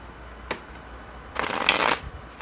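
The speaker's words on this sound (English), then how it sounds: "I'll be shuffling more cards here" Tarot cards are shuffled close by: a quick single flick, then a riffling burst of papery fluttering lasting about half a second.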